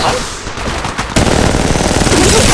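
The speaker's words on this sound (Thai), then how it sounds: "ฉันกำลังถูกยิงใส่ชาร์จเกราะอยู่นะ ศัตรูกำลังยิงใส่" Rapid automatic gunfire from the mobile shooter Apex Legends Mobile. A quieter stretch gives way to loud, dense, continuous bursts of shots at close range.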